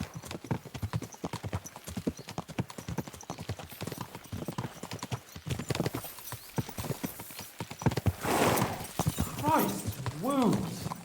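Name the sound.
horses galloping, from video game Kingdom Come Deliverance 2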